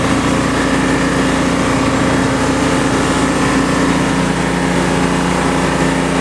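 A welding machine's small engine idles steadily on partial choke after a cold start in Alaska, a loud, continuous buzzing drone with a constant low hum and no voices.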